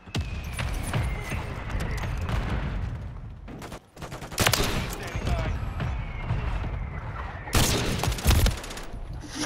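Rapid automatic gunfire from Modern Warfare 3 multiplayer, dense bursts running nearly throughout, with louder close volleys around the middle and near the end and a brief pause before them.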